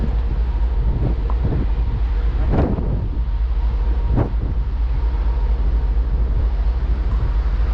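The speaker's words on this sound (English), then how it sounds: "it's a little bit breezy this afternoon" Steady wind buffeting the microphone on the upper deck of a cruise ship sailing from Rotterdam to New York, a loud continuous low roar with a couple of brief gusty thumps.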